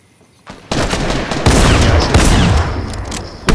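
Dense bursts of rapid gunfire fill the game Fortnite, loud and close, one sustained fusillade kicking in after a brief quiet start and continuing almost unbroken to the end.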